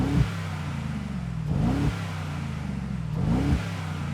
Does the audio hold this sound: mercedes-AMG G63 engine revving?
yes